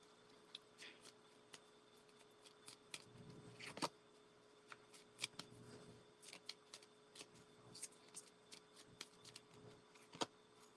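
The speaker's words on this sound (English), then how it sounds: "I'm just going to pull a couple more cards here." Tarot cards are shuffled and drawn from the deck, making quiet, scattered crisp flicks and soft slaps at close range, irregular in rhythm, with no voice.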